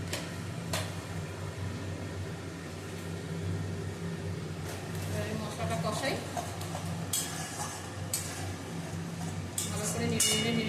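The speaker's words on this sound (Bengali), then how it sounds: "মশলাটা কষাই।" A spoon stirs and sautés spice paste with sugar and cashews in a pan over a half-low gas flame, making steady, close scraping with a gentle sizzle underneath and occasional sharper clinks.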